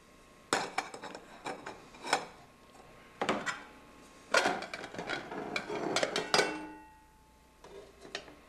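Parts of an alcohol stove cookset clatter together: the pot, stand and windscreen knock and scrape in several sharp, close metallic bursts separated by quiet gaps.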